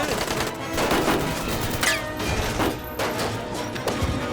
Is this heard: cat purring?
no